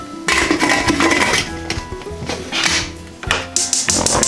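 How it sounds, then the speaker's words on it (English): A pressure cooker lid being fitted and closed on a pot of fabada asturiana, with loud, close metallic clanks, scrapes and clicks coming in several uneven bursts. "Now we're going to close the cooker."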